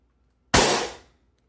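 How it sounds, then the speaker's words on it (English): A homemade BB gun fired without a suppressor gives one loud, sharp pop close by, with a quick burst of noise that fades out in under a second and no other sound around it. "As you can see, a noticeably large pop. Sounds like a gunshot."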